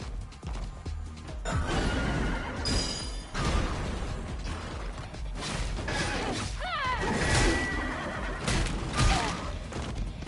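A horse neighs in the Stellar Blade video game, a rising whinny heard among busy game effects, crashes and mechanical clatter, with no voice over it.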